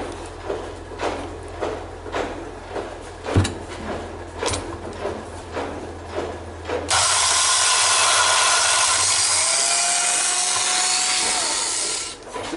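A grinder cutting engine valve seats, giving a steady abrasive rasp under rhythmic scraping, then a louder continuous whirring grind that winds down near the end, heard close with no talking.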